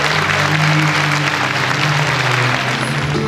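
An audience at a university event applauds to welcome small children onto the stage, giving dense, continuous crowd clapping at moderate loudness with a low background hum beneath.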